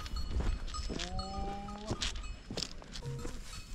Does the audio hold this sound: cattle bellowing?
yes